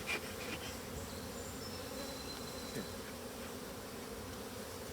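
A dense, steady drone of many honeybees buzzing together inside an opened hive, continuous and close, with a few faint clicks and knocks over it.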